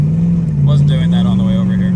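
A turbocharged Cadillac CTS-V street car sitting in park, its engine holding a steady droning rev that rises slightly as the gear slips, loud and close.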